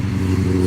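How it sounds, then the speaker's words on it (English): A motorcycle engine roars by nearby, a loud short burst of low throbbing engine drone outdoors. "That's a motorcycle."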